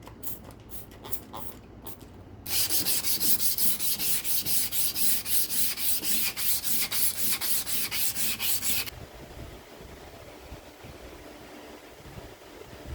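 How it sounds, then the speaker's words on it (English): Repeated rhythmic rasping strokes of sandpaper hand sanding a knife handle, loud and brisk in the middle, softer strokes before and after. "It's time for hand sand."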